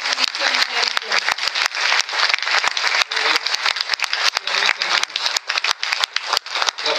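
A church congregation claps during a Spanish-language service, loud, close hand claps falling in a quick, uneven rhythm over a warm crowd din for several seconds.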